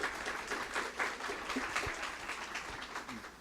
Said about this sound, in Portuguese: Salva de palmas, mano.